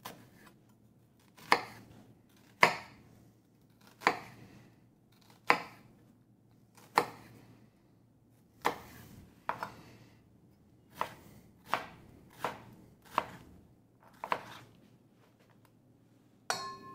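A knife chops half a white onion and a tomato on a cutting board, about a dozen distinct sharp thunks at uneven intervals. They are close and clear over a quiet background, with no talking.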